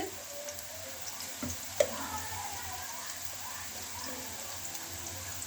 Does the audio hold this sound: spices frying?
yes